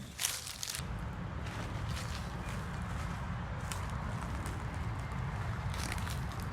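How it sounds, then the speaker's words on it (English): Footsteps crunching through dry leaves on a wooded urban park path in Kolkata, a steady run of close rustling steps over low ambient rumble. "The rustling dry leaves under my feet."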